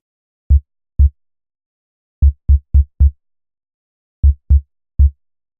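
A soloed sub-frequency oscillator tone for a kick drum, with a little release added: short, deep booming thumps in an irregular pattern of eight hits, loud and isolated against silence.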